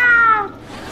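A cat meows in the video game Stray: one clear, close, rising-then-falling meow lasting under half a second, followed by quiet game ambience.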